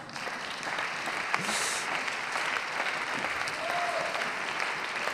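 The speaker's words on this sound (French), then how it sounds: "Vous pouvez vous applaudir vous-même." An audience claps continuously, a dense steady patter of many hands at moderate distance with no voices on top.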